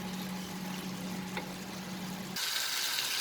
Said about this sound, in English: So we will saute this to make it a little bit dry.